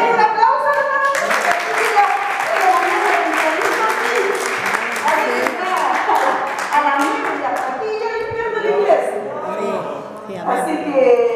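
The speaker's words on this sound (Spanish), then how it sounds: "Denle un aplauso a la hermana Mónica." Church congregation applauding for a sister at a service recognition, lively clapping mixed with singing and sustained voices, loud and close, with the clapping thinning toward the end.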